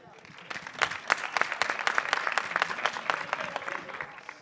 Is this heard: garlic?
no